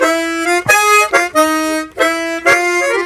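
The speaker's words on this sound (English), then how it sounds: "That's my go-to 12-hole chromatic harp." A 12-hole chromatic harmonica with G reed plates plays a short bluesy phrase of sustained reedy notes in octaves, separated by brief breaths and articulations, loud and close.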